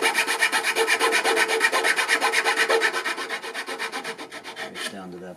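A hand saw makes relief cuts in wood for soundboard bracing, giving quick, even back-and-forth rasping strokes up close that slow and fade toward the end before stopping.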